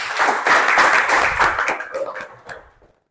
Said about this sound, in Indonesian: Tepuk tangan untuk Rehan.